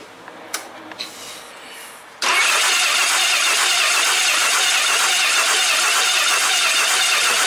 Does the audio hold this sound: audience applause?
no